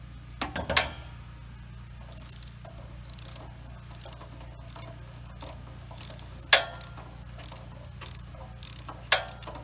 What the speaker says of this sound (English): take the spark plug wrench, or I guess you could do it with a pair of pliers, and loosen the spark plug until it comes out